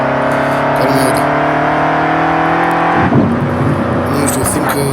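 A Lamborghini Urus Performante with a 750 hp V8 accelerating hard on a test drive, its engine note climbing steadily through one gear before a shift, loud and close from inside the cabin.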